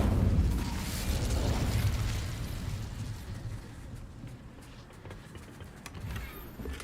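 Incendio fire spell cast in the Hogwarts Legacy video game: a loud, rumbling burst right at the start that rolls on and slowly fades into a lower, uneven crackle, with no voices.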